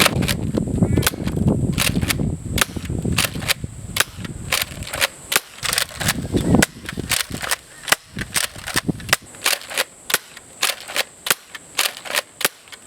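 Modified Nerf Retaliator blaster with its locks removed, firing foam darts: a rapid run of sharp, close snapping shots, with a rumbling handling noise underneath early on, then spaced bursts of shots.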